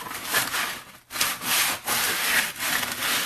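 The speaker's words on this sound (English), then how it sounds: "Okay, we're going to get this one sanded while this one's drying." Large wooden Americana firecracker sanded by hand with a sanding block, a steady close rasping scrape in long back-and-forth strokes with a brief pause near one second, no talking.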